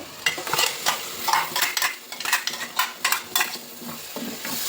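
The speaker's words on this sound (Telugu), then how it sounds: "టమాటా ప్యూరీ వేసుకొని ఆయిల్ పైకి వచ్చే వరకు ఫ్రై చేసుకోవాలండి సిమ్లో పెట్టి" Tomato puree frying in oil on low heat for a paneer and egg biryani, with repeated spoon scrapes and stirring strokes over a constant sizzle, close and fairly loud, no talking.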